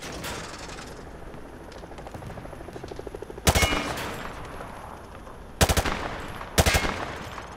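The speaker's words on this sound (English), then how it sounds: "He sprayed bullets all over the damn place." Rifle gunfire sprays at range targets in Modern Warfare 2, with a rapid rattling automatic burst early on and then three loud, sharp bursts separated by gaps, over a low background rumble.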